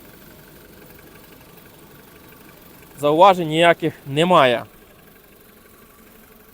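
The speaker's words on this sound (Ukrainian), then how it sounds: "Мотор працює тихо, рівно, технічних зауважень немає." The 1.6 MPI engine of a 2008 Skoda Roomster idles with a low, even, steady hum under the bonnet. Someone speaks briefly over it partway through.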